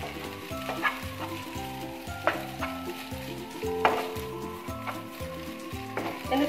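Noodles with carrot and onion being stirred in a hot pan, with a steady sizzle broken by repeated scraping strokes of a utensil in an even rhythm, close and fairly loud, with no talking.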